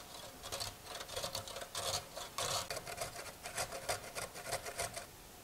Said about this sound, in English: I'm just going to take my box grater and we're going to use the big side here and just start grating the carrots